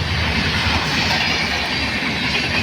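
A train rumbles past near a village house in summer, a loud, steady roar of wheels and rolling stock filling the whole stretch without letup.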